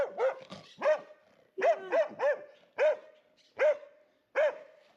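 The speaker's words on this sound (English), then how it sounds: "Oh, he's gonna bark at me." A nervous dog barks about nine times in short, sharp, close and loud woofs, in uneven bursts with brief pauses between them.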